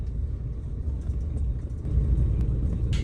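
Bus cruising on a road near Cibitung on the way to Jakarta, heard as a steady, close low rumble of engine and tyres with no talking, rising slightly toward the end.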